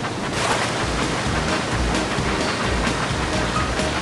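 Loud, steady rushing water pours down the wild water slide at Water Slide Mountain in a Thomas & Friends train game, a continuous broadband wash with no voices.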